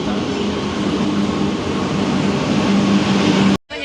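A train passes at a railway station with a loud, steady rumbling roar and low droning hum that holds throughout before cutting off abruptly near the end.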